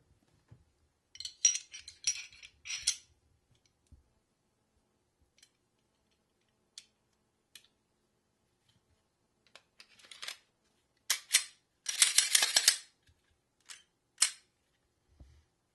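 Glock pistol being put back together after cleaning: sharp metallic clicks, slides and snaps of parts fitting, in scattered clusters with quiet gaps between, close and clear with no talk.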